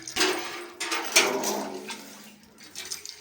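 Water from a spring splashing and gurgling in short bursts, then trickling more quietly, close by with no voices.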